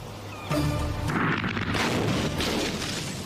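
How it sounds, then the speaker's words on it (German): A sudden loud boom bursts in after a quiet moment as a house explodes in Edinburgh, followed by a rumbling, crackling roar of debris that slowly fades. "Am Morgen wird Edinburgh von einer Explosion geweckt."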